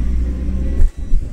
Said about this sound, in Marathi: ही आमची दुसरी गाडी आहे, ती आता मागून येते।